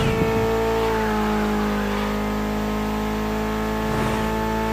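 Mitsubishi inline four-cylinder car engine in the racing game The Crew Motorfest, a loud sustained revving drone with steady tonal whine, rising and falling slightly, alone without talk.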